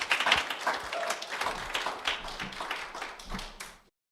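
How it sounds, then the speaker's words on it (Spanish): Congregation clapping in a church after a pastor is introduced, a lively burst of scattered claps that fades and stops abruptly near the end. "Un aplauso."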